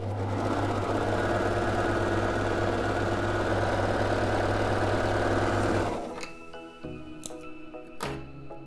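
Baby Lock serger stitching a rolled hem at a very short stitch length, a loud steady mechanical whir with rapid ticking for about six seconds, then stopping, leaving faint clicks and quiet handling noises.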